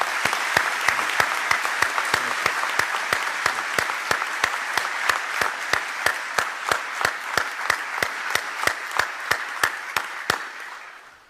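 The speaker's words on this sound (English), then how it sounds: "I just want to offer you a round of applause from all of us at Eucom" Audience applause at a military ceremony of the U.S. European Command: a dense, sustained wash of many hands clapping that thins into distinct individual claps toward the end, then stops abruptly.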